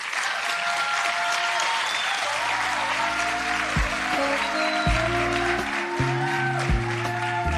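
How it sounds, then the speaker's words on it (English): Audience at a studio unveiling event in Pretoria gives a warm round of applause, steady dense clapping from a crowd throughout, with a low tonal hum or music running underneath. "I would love for us to please give her a warm round of applause as she comes up on stage"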